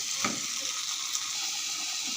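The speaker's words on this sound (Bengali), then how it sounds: "এই যে কাতলা মাছের মাথাগুলো দিয়ে দেবো, ওই দিয়ে একটু কষিয়ে নেব।" Catla fish heads sautéing with spices in fish oil give a steady, soft hiss with a faint clatter early on, alone and close.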